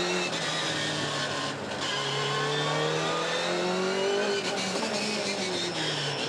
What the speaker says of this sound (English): That car of Buncombe's just went past our commentary box.